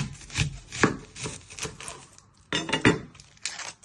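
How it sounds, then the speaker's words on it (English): A knife chops the end off an onion on a board, a series of sharp, close cutting knocks in uneven rhythm with a short pause midway. "Next step, you're going to prep your onion. You're first going to chop your end."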